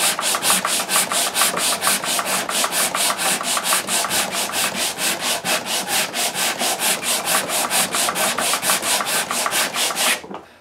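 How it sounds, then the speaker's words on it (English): A sanding block is rubbed along the fret area of a Martin D-16 guitar neck in steady, even back-and-forth strokes, a close rhythmic scratchy rasp repeating about four times a second for ten seconds before stopping. "I do an 8 count of sanding strokes"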